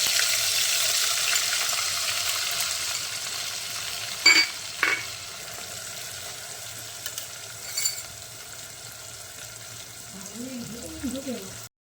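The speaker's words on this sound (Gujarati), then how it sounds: "જો આ આપણું તેલ ગરમ થઈ ગયું છે. હવે આપણે અંદર એડ કરીશું લસણની પૂરી." Garlic paste frying in hot oil gives a constant bright sizzle with a few clinks from a utensil. A voice is heard faintly near the end.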